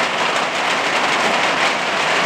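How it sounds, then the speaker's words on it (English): Steady, dense rain falls all day on a New Zealand rabbit homestead, a constant even hiss with no pauses and no voices. "it's raining, and it's been raining all day"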